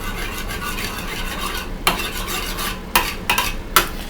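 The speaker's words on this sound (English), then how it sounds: "And now let's mix in the yellow" In a hot pan, egg yolk is stirred into partly cooked whites over a soft sizzle, with a few distinct utensil scrapes and taps against the metal, close and clear.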